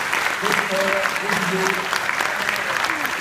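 Audience applause at a judo club celebration in France, a steady wash of clapping running throughout while someone speaks over it.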